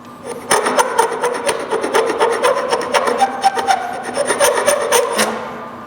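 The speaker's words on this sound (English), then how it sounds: "We're going to take a scraper and scrape off the glue." A hand scraper rasps residual glue off a glued-up wooden end table shelf panel in quick repeated strokes, close and fairly loud, steady for several seconds with no talking.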